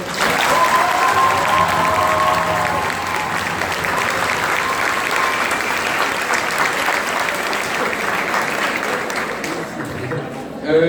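An audience at a student tutoring association's presidential address applauds in a dense, sustained burst of clapping for about eleven seconds. A voice briefly carries over it near the start.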